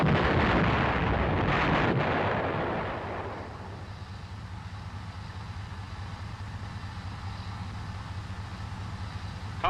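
An M551 Sheridan armored reconnaissance vehicle fires its main gun in one loud, booming blast that rolls off over a few seconds into a low, steady rumble.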